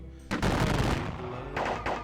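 Volleys of musket and rifle fire in a Battle of Gettysburg war game, a sudden dense crackling burst followed by a second rattling salvo, loud and close.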